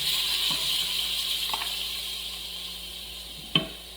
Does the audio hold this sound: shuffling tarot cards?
no